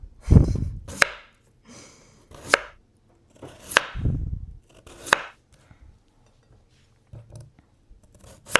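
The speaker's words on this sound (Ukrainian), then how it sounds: "Нам потрібно картопельку нашу нарізати на такі типу слайси" Knife chopping potatoes into thin slices on a board for a simple three-ingredient potato dish: a handful of sharp, separate cuts spaced about a second apart, close and clear, with quiet pauses between.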